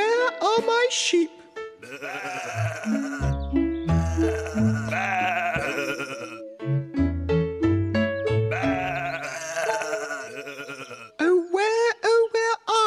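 Sheep bleat in a staged Little Bo Peep performance, with repeated wavering bleats mixed into sung and voiced melodic lines that may be people imitating the animals.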